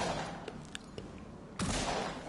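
A few sharp, scattered gunshot cracks in the VR zombie game After the Fall, then one louder blast that rings out and fades, over a noisy background.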